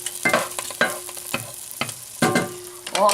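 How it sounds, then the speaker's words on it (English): Garlic cloves cooking in extra virgin olive oil in a pot, with several bursts of sizzling and stirring scrapes separated by quieter gaps, close and fairly loud with no talk. "See the garlic cooking here?"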